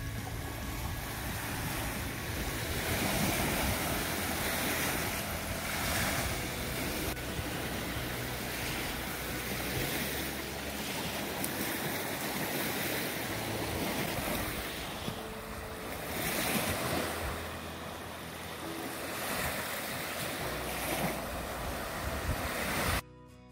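Small waves lap steadily along a tiny Lake Michigan beach, a continuous washing hiss with gentle surges and some wind rumble, no voices over it.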